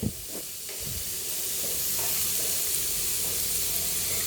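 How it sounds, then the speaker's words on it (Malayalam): Beans frying in a pan hiss and sizzle steadily while being stirred, with a few scraping stir sounds at the start before settling into a continuous close crackle. "ഇനി നമുക്ക് മൂപ്പിക്കാൻ വെച്ചേക്കുന്ന പയർ ഇട്ട് കൊടുക്കാം. അത് നന്നായിട്ട് മൂത്ത് വരണം. അതിന് വേണ്ടി നമുക്ക് ഇളക്കി കൊടുക്കാം."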